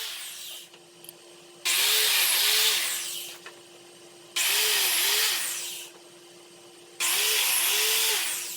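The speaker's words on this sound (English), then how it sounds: "Here I'm going to use the biscuit joiner to help me align the boards during glue up." A biscuit joiner cuts slots into wooden boards for a farmhouse table in three separate bursts. Each cut brings a whining motor spin-up and a loud, harsh grinding into the wood, with a quieter hum between cuts.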